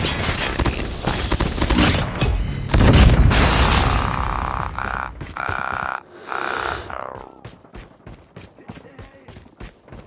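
A grenade goes off in Call of Duty Mobile, a heavy, booming blast amid ongoing gunfire and battle noise, followed by a fading crackle of shots and game voices.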